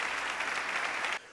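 Audience at a formal award ceremony applauding as a prince walks to the lectern, a dense, even wash of clapping from many hands that holds steady and then cuts off abruptly.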